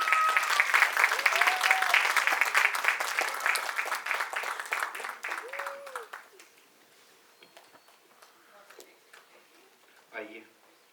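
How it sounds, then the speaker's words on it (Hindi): An audience applauds a stage drama act with dense, sustained clapping for about six seconds, which then thins and fades to near quiet, with a brief faint sound near the end. "तो उसके लिए तालियां तो बनती हैं."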